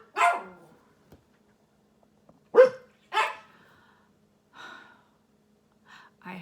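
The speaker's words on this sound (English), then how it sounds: "I have one dog that barks at everything" A pet dog barks indoors at home: three sharp, loud barks in quick succession near the start and middle, followed by a few softer, shorter yips and huffs, with quiet gaps between.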